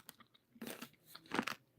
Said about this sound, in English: Now you're going to hear me chewing.